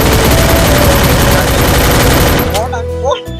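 Rapid gunfire from the mobile game Free Fire, played on a phone outdoors in a village, rattles loud and dense for a couple of seconds before giving way to quieter voices and scattered sounds.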